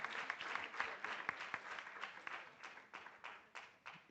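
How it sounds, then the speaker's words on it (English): An audience at an arbitration week event in Nairobi gives the University of Nairobi a round of applause: sustained clapping with distinct individual claps standing out, tapering gradually over a few seconds. "So for the University of Nairobi, once again, let's give them a round of applause."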